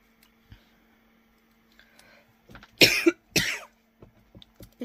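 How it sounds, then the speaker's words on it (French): A person coughs twice in quick succession, close and fairly loud, during a paper-crafting session; soft ticks and handling noises from the work come before and after the coughs in an otherwise quiet room. "je tousse"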